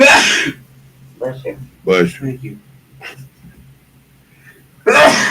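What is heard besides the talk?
sneeze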